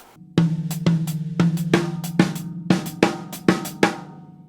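An African gospel praise drum fill on a drum kit: a run of sharp hits over a sustained low tone, about eight strikes spaced roughly half a second apart, each decaying quickly; loud and close.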